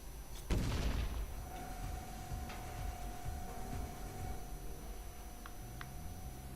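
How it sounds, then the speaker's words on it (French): A grenade explodes in the platform game Flashback: one sharp, loud blast that decays into a low rumble, followed by a steady hum and faint scattered clicks. "on jette une petite grenade par ici"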